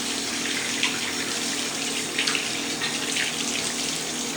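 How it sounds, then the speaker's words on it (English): Warm water runs steadily from a tap for a dog's bath, a continuous close hiss and splash with slight shifts in flow and no voices. "now you have to wash it with warm water."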